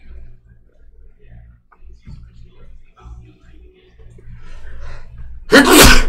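A single loud, explosive sneeze bursts out near the end, right after quiet murmuring and light background sounds during a Wendake board game session.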